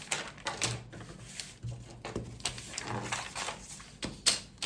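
Scissors cutting through a paper sewing pattern for an off-the-shoulder turtleneck blouse, giving close, irregular crisp snips and rustling paper with short pauses between strokes.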